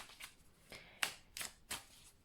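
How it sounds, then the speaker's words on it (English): Tarot cards from a Stokes Gothic Tarot deck are shuffled by hand, giving four or five brisk papery riffles and flicks spaced across a couple of seconds, fairly quiet and close with no talking. "let me shuffle the cards a little bit"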